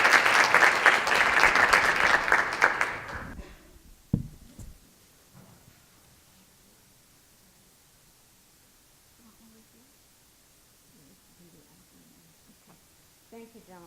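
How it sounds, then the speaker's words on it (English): An audience at a student award ceremony gives loud applause for about three seconds, which fades quickly into a quiet room with faint rustling and a knock. "They deserve a huge round of applause."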